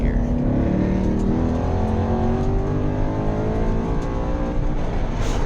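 A Ford Mustang engine drifting in a tandem run, revving hard in a loud sustained roar with rising and falling harmonics across the whole stretch, close and dominant with no clear talking.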